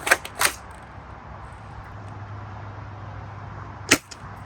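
A Dart Zone Pro Mk 1.2 foam dart blaster gives two quick, sharp snaps close together, then a lone louder crack a few seconds later, with a low steady hum between shots.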